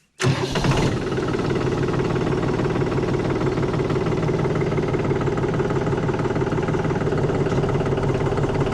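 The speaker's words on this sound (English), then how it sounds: "I'm going to go ahead and I'm going to start the tractor" A tractor engine, on a Vermeer Rebel 5410 baler setup, cranks briefly and catches, then settles into a loud, steady diesel idle with a constant low rumble that continues to the end.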